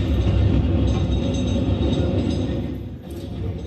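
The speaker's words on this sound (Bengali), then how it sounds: "ওই ট্রাম আসছে, চলো।" Kolkata tram approaching along a city street, a loud, close, steady low rumble of the rail vehicle rolling in, easing slightly toward the end, with no talk.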